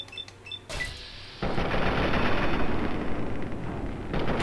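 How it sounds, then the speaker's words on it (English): Assault rifle firing in the Fallout 3 video game, a sudden loud, sustained rattle of rapid shots that runs steadily for several seconds after a few faint clicks at the start, with no talking. "Kind of wasting assault rifle bullets a little bit here"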